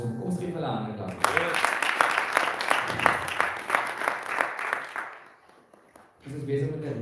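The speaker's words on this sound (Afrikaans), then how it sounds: "Kom ons gee vir hulle 'n ander klap." A church congregation at a Sunday evening festival service breaks into loud, dense applause for a couple of seconds before it fades out, with speech heard before and after.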